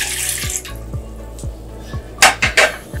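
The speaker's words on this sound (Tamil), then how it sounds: "பாத்திரத்துல தண்ணி 1 கப் ஊத்திக்கோங்க." Water poured into a cooking vessel in a home kitchen while making jaggery syrup, with a brief splashing rush followed by light metallic clinks and taps of the pot, close and without talk.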